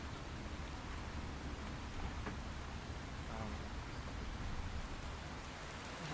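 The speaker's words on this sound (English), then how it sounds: "Well, some rain, huh?" Staged rain effect in a theatre production of 12 Angry Men, a steady, even hiss of falling rain with faint scattered patter, continuous throughout at low level.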